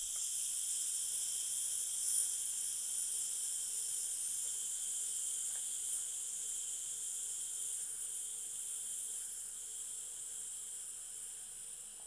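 A KUHN RIKON Duromatic pressure cooker hisses as steam pressure vents while cooking chickpea curry, a steady, airy hiss that slowly fades quieter over the span. It sounds close and faint, with no talking.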